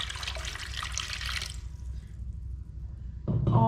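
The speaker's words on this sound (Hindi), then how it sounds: "उसमें 1 गिलास पानी डालेंगे" A glass of water is poured into a small cooking pot in a kitchen: a close, splashy pouring rush lasts about a second and a half, followed by quiet and then a sharp metallic clank of the pot.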